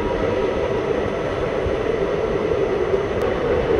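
Steady rumble of the Ratnachal Express running on rails, heard from inside a carriage on a rainy journey, continuous and even throughout with no voices.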